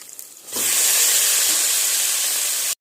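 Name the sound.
banana flower added to sizzling onions in pan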